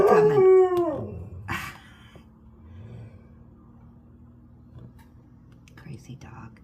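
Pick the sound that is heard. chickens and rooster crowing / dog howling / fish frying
dog howling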